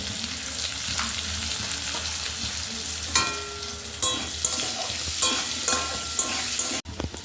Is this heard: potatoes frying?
yes